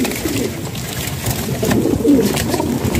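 Pigeons being sold in Bahawalpur coo softly and repeatedly at close range, low throaty calls overlapping amid a muffled background of rustling and handling.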